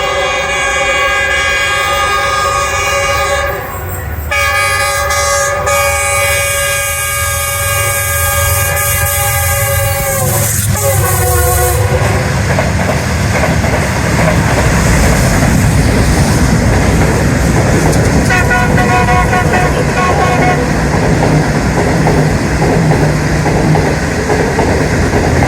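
A Green Line 5 Up train passes a station at Pattoki, its horn blaring in long sustained blasts before the steady rumble and rattle of the wagons rolling through close by.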